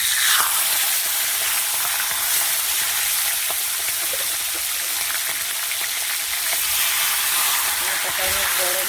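A large bhola fish head frying in hot oil crackles and sizzles loudly and without a break, with a few sharper pops and stirring clicks near the end.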